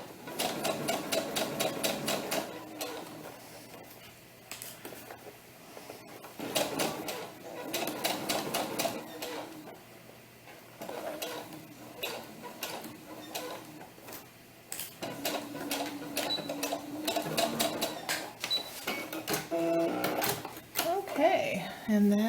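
A sewing machine stitches bias tape onto a doll tunic seam in several rapid bursts separated by pauses, with people talking between runs.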